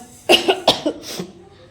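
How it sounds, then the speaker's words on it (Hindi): A few dry, rasping coughs from a woman in quick succession, close and fairly loud, then trailing off into quiet. "मैं बात कर रही हूँ ना तो सूखी खांसी आ रही मालूम।"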